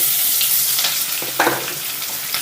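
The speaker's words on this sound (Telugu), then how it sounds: "ఇప్పుడు ఇందులోకి సన్నగా కట్ చేసుకున్న ఒక ఉల్లిపాయ" Thinly sliced onion drops into a hot tempering of dried chilli and curry leaves, giving a loud, close sizzle with crackling bursts and stirring scrapes, and no talking.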